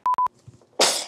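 A sharp, breathy sneeze bursts close and loud after a few short beeps and a brief quiet stretch.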